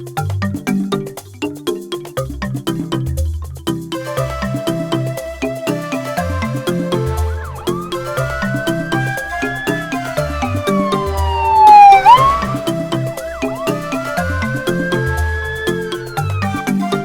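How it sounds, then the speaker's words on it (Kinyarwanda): An ambulance siren in an animated series, called for a sick child, wails in rising and falling sweeps layered over steady rhythmic background music, loud and continuous with no talking. "Nuko bahamagara imbangukiragutabara."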